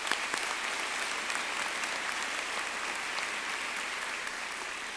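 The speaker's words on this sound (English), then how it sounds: "please join me in giving a round of applause to the FAU Army ROTC" Audience applause fills a university commencement ceremony at FAU, a steady wash of many hands clapping at moderate, even loudness throughout with no voices over it.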